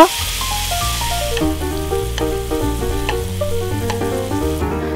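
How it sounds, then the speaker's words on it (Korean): Meat sears in a little oil in a hot pan, a steady loud sizzle that carries on without a break, close up with no voices. "달군 팬에 식용유를 약간 두르고 고기를 겉면만 익힌 후 꺼내요"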